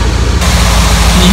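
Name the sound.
car radiator cooling fan running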